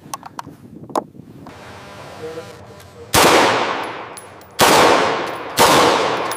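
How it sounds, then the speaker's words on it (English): An AR-15 rifle fires three loud, echoing shots at irregular intervals on an indoor range during a 10-round firing test, each blast ringing off the walls and decaying slowly, preceded by light mechanical clicks and handling. "First is a 10-round firing test at an indoor range."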